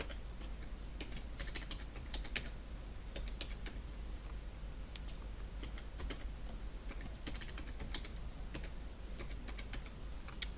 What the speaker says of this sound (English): we'll just type in here test user 1